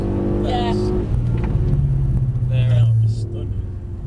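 A BMW car engine on a race track drones and rumbles steadily up close with a low, rising note, while people talk over it.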